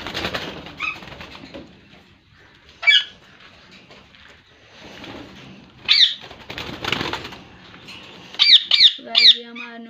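A pair of ringneck parrots in an indoor home breeding setup give sharp, scattered squawks, a few isolated calls and then a quick cluster of shrill cries, with a person talking quietly in the background.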